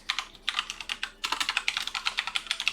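Rapid typing on a computer keyboard, a dense run of crisp key clicks with a brief pause before a faster, steadier burst; close and fairly loud, with no talking.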